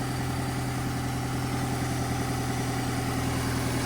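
A Honda engine idles steadily just after starting, a loud, even mechanical hum with a fast regular pulse and no other sounds.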